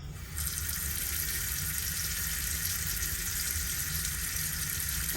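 Water runs steadily from a tap into a basin as a laundry detergent sheet dissolves, a constant, fairly loud hiss with no talking.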